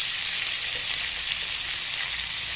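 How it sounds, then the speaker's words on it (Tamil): Pirandai (adamant creeper), garlic, tomato and onion sauté in a pan, giving a steady, close hiss and crackle of frying oil that runs unbroken throughout with no voices. "அப்புறம் பிரண்டை, பூண்டு இதெல்லாம் நல்லா வதக்கணும்"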